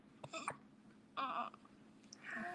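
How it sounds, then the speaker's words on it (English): A baby's hiccups sound as a few short, soft vocal bursts spread over a couple of seconds, close by in a quiet room. "at least he has the hiccups"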